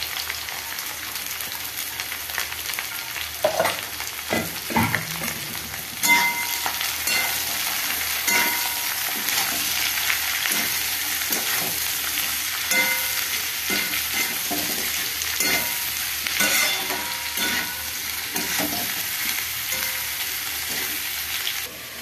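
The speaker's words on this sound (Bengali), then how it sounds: "পেঁয়াজ দিলাম, পেঁয়াজগুলো লাল লাল করে ভাজবো।" Onions frying in a pan for Deoghar-style mutton, a steady loud sizzle with repeated scraping and stirring strokes throughout, no voices.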